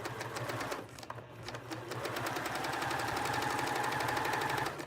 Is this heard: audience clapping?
no